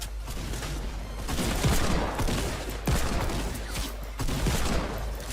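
Desert Eagle pistol fire in the online shooter game Zula, bursts of sharp cracking shots and booms repeating in quick clusters, loud and dense over game noise.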